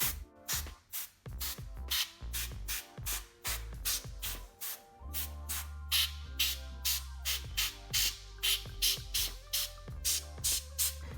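Short repeated bursts of compressed-air spray hiss across a MacBook body during fan cleaning, each blast about a second long and close by, with music playing underneath.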